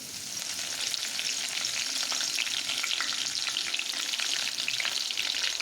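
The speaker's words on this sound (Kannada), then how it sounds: "ಎಣ್ಣೆ ಕಾದ ನಂತರ ಕರಿಬೇವನ್ನು ಆ್ಯಡ್ ಮಾಡ್ತಾಯಿದ್ದೀನಿ." Curry leaves fry in hot oil in a kadai, giving a steady, dense crackling sizzle that stays loud and even throughout with no talking.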